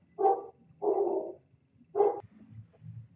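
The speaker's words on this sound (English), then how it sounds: "Sorry, my dogs are barking." A dog barks three times, short and moderately loud, with quiet pauses between the barks.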